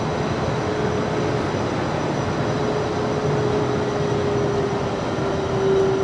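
Steady broadband jet roar of an aircraft on approach to a Miami runway, continuous and fairly loud throughout with a faint whine, no voices.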